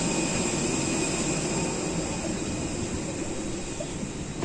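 A loud, steady roar of an airplane's jet engine, continuous and unbroken throughout, like an airplane idling or taxiing nearby.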